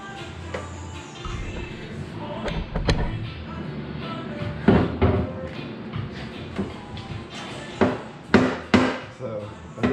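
Sharp metallic hammer blows strike a bolt on an old Chevy Sonoma pickup during a V8 swap, several loud hits scattered among workshop clatter, with a cluster of strikes near the end.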